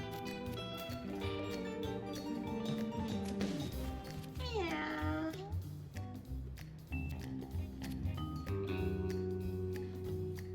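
A cat meows in a video game, one drawn-out wavering meow near the middle, sounding over game music and background sounds.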